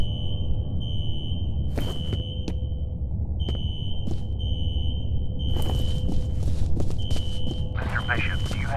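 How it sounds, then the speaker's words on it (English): A fire alarm rings in the video game F.E.A.R., a steady high electronic tone repeating in on-off pulses over a low background hum, with occasional short clicks and clatter. "A fire alarm. Triggered at a security office on that floor."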